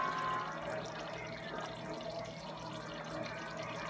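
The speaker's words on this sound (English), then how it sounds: "Pour the cassava leaf on your rice." Cassava leaf sauce with peanuts is poured from a pot onto a plate of rice, giving a steady soft liquid pour and slosh against a constant background hiss, with no talk.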